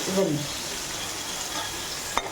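Onion sautés in a pan for a paneer gravy, giving a continuous close frying hiss with a brief utensil knock near the end.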